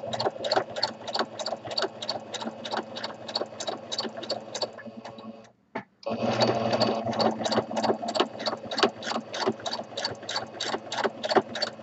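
Sewing machine running steadily in a rapid, regular stitch rhythm while free-motion stitching around a fabric appliqué, with a brief stop near the middle before the needle resumes at the same close, loud pace.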